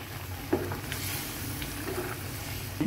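Pork menudo with liver is stirred in a pan, giving a quiet, steady sizzle with a couple of soft spoon scrapes near the start and end.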